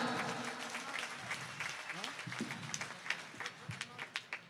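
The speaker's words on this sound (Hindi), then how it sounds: "एक बार जरा जोरदार तालियां बजाओ।" Applause from an audience at an outdoor Hindi poetry gathering on a middle school ground, a steady wash of clapping with sharper individual claps toward the end, speech mixed in.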